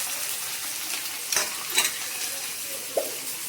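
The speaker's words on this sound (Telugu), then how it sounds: "ముందుగా నేను ఆయిల్ వేసి ఆ తర్వాత వేడెక్కిన తర్వాత ఆనియన్ ముక్కలు అనేటివి ఇందులో యాడ్ చేసి బాగా కలుపుతున్నాను" Onion pieces fry in hot oil for a mutton onion curry, with a constant close sizzle and a few sharp stirring scrapes against the pan.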